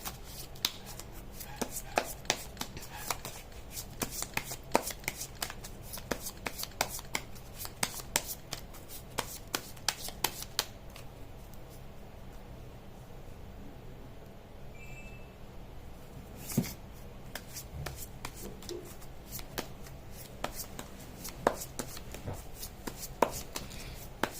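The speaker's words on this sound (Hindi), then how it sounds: "मैं कर लेती हूँ कार्ड की शफलिंग" Tarot cards being shuffled by hand for a Hindi tarot reading: a steady run of soft, close riffling and tapping clicks that continues for the whole stretch, with no talking.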